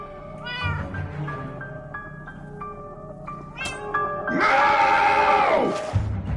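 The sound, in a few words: cat meowing in video game Minecraft Story Mode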